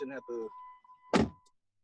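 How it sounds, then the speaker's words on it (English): A car door slams once as a sharp, solid thunk after a brief electronic tone and two short sounds, isolated against near silence. "You was talking about a car and all you do is slam the car door."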